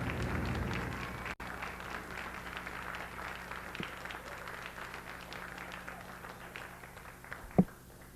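An audience at a 1996 LMC-TV annual award show applauds, a dense wash of clapping hands that holds steady for several seconds before thinning out, with one sharp knock near the end.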